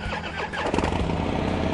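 A 2013 Harley-Davidson FXDF Dyna Fat Bob motorcycle cranks and fires up, its starter whir giving way to a brief rumbling catch of the V-twin engine, close and fairly loud.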